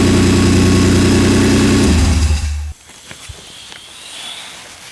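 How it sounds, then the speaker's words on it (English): A car engine runs loud and close with a deep steady idle hum, then cuts off abruptly, leaving quiet shuffling and faint background noise. "we've got a running car"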